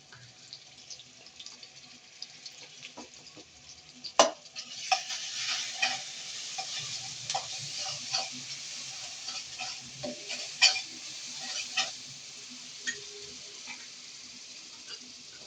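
Garlic paste, turmeric and chili powder are stirred together in a hot frying pan, giving steady sizzling with repeated scraping strokes of a spoon, close and clear, with no talking.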